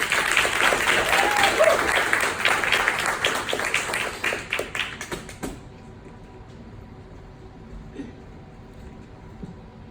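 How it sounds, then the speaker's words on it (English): Audience applause for a speaker at a storytelling event, dense clapping for about five seconds that thins into scattered claps and then falls to quiet room tone. "So let's give a round of applause to Toya Webb."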